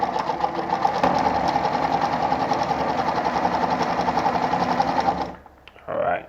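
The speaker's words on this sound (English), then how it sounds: "I'll sew another straight stitch" A Pfaff 230 sewing machine runs a straight stitch with a fast, even mechanical whir and needle rattle for about five seconds, close and steady, then stops abruptly before a brief handling noise.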